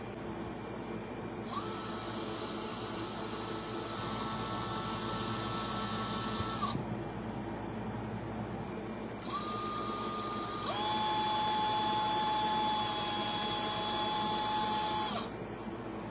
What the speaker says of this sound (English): if you take your 5/64 bit and ream these out here, ream these out here and here